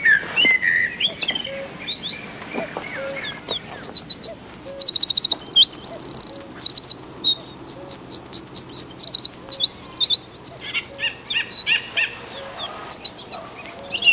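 Several songbirds sing in a varied, continuous chorus of whistled phrases, trills and chirps, close and fairly loud, with repeated song bursts throughout and no talking.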